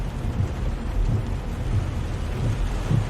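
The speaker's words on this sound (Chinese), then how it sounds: "这不是下雨了吗？" Steady rain falling outside with a low, rumbling wash like distant thunder, loud and continuous across the whole stretch with no voices.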